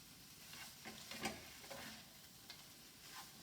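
A spoon stirs Gujarati-style cauliflower sabji in a pan, soft sizzling under a few scraping clicks and stirring knocks, faint and close, with no talk.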